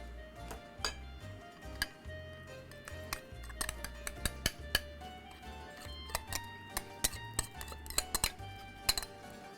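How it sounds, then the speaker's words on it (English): A utensil mixes cheese into cacio e pepe pasta, making irregular close metallic clinks and taps against the pan or bowl over a quiet background. "Mix that really well."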